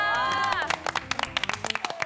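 Studio audience on a Korean variety show breaks into a burst of scattered applause and clapping, with a short musical tone at the start.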